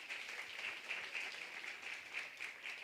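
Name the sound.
applause for Yair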